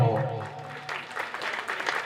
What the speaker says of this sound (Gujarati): એકવાર આ છોકરાને તાળીઓના ગણગણાટથી વધાવો